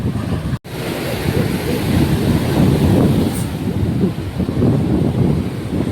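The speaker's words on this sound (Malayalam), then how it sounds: "ഇവിടെ നല്ല കാറ്റുണ്ട്" Strong wind at Azhikkal Beach in Kerala buffets the microphone in a loud, continuous roar, mixed with the wash of surf nearby.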